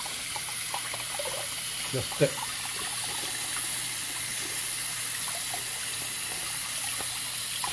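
Water pours steadily into a basin while oysters are being cleaned, a continuous broad gush close to the microphone with a short knock partway through and a voice speaking briefly.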